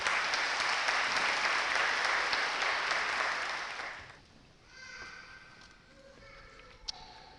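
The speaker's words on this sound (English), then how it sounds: "Give yourselves a hand of applause" Graduates at a Jackson Public Schools summer commencement applaud in a dense, loud burst of clapping that lasts about four seconds before fading, leaving quiet room sound with a faint voice afterward.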